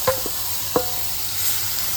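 Mashed ridge gourd with turmeric is stir-fried in a pan, giving a soft sizzle under a few sharp scraping knocks of the spatula against the pan, quiet and without talking.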